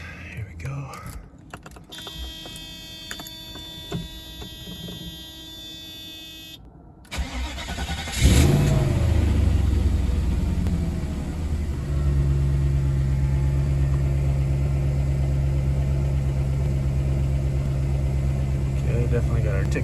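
After some quiet handling and clicking sounds, a car engine with noisy valve lifters cranks and catches around the middle, then settles into a steady, fairly loud idle that continues to the end.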